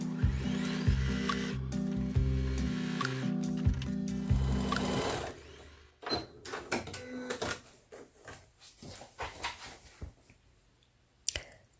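A sewing machine quilting scrap fabric oven mitts, first running in a steady, rapid mechanical chatter, then stopping and starting in short bursts with clicks and handling noises close by.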